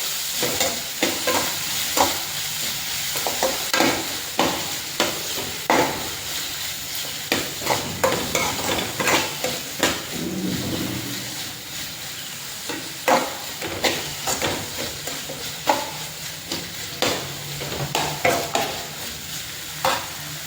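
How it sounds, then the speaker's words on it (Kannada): Chopped tomato and green chili fry in a pan for beetroot palya, a continuous sizzle broken by frequent loud scraping stirs and clanks of the spoon, close and busy throughout. "ನಾವು ಹೆಚ್ಚಿಕೊಂಡಂತಹ ಟೊಮೆಟೊ ಮತ್ತು ಕಾಯಿ ಮೆಣಸನ್ನು ಹಾಕಿ ಸ್ವಲ್ಪ ಹೊತ್ತು ಫ್ರೈ ಮಾಡಬೇಕು."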